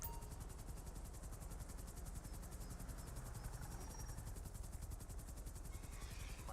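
A police helicopter hovers overhead in a GTA roleplay game, its rotor beating in a steady, loud, continuous rhythm with a broad engine rumble throughout and no talk.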